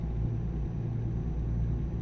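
A truck's engine in American Truck Simulator gives a steady, deep low rumble with a constant droning hum, close and continuous with no breaks.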